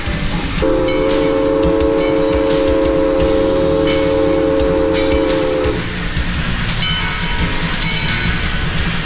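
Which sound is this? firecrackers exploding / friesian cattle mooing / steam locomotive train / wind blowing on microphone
steam locomotive train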